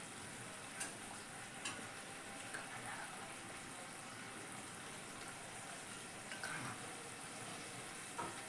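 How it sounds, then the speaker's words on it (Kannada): Sauce for baby corn Manchurian boils in a pan, a quiet, steady bubbling hiss with a few faint clicks and no talking. "ಕುದಿ ಬಂದಿದೆ ನೋಡಿ"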